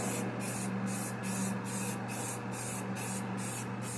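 Steady hiss of spray paint from an aerosol can being blasted onto a scale model for weathering, continuous and close, with a faint regular pulsing through the spray.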